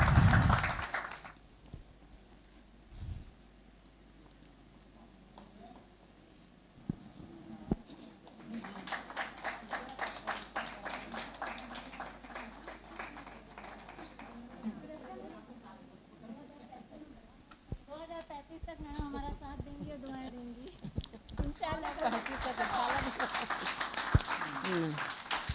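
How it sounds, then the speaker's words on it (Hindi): Audience applause at a school vision launch ceremony, building in bursts of clapping through the middle and swelling loudly toward the end, with a voice over a PA speaking near the start. "जोरदार तालियां बजाइए मैम के लिए।"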